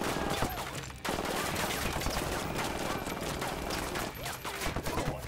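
Gunfire rattles through a firefight in the Ghost Recon Wildlands video game: dense, continuous bursts of automatic weapons, loud and close, with a brief dip before the shooting resumes.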